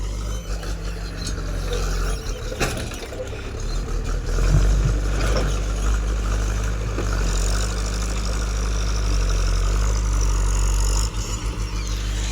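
Tractor engine idling while parked, a steady low rumble that stays close and continuous throughout, with no talking.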